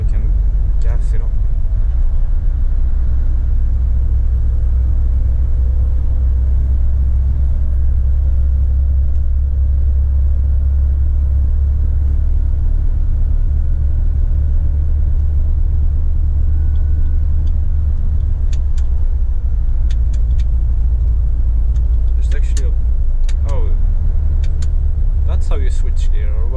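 A Mercedes Actros 2541 truck towing a trailer drives along with a steady low engine rumble, loud and continuous throughout. Someone talks over it briefly, and a few clicks come near the end.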